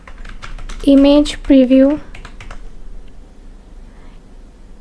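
Keys tapped on a computer keyboard while searching for VS Code extensions, a light clatter of clicks running beneath a man's speech that stops partway.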